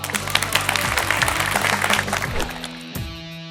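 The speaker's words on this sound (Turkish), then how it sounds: "Bir alkış." A short burst of applause from a group, clapping densely for a couple of seconds before fading out.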